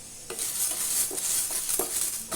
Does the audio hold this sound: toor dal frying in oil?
yes